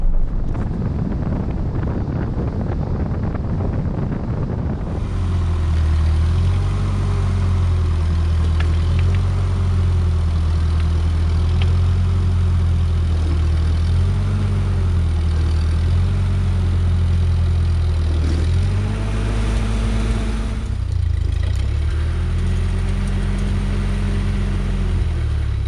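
A vehicle engine drones steadily in third gear while slowly towing a large black oak log through the woods, loud and close with a low hum, wind buffeting the microphone throughout and a brief shift in pitch partway through.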